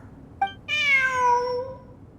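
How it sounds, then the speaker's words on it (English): A cat in the Genshin Impact video game gives a clear, drawn-out meow, preceded and followed by short chirpy mews, close and distinct over a faint background bed. "Look! A cat!"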